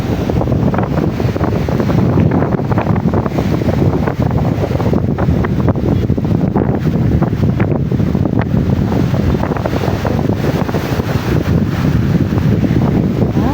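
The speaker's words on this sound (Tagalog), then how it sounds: "ganito kalakas ang alon dito" Strong surf roars steadily, close by during Typhoon Opong at Hagna, Bohol, heavily mixed with buffeting wind noise on the microphone; no voices.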